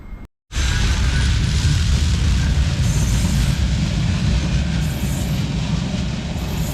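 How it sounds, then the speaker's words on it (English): A Manchester Metrolink tram pulls away toward Piccadilly, a loud, steady rumble of wheels and motors that holds close and constant for several seconds after a brief opening gap, with no talk over it. "there goes the Manchester Metrolink to Piccadilly"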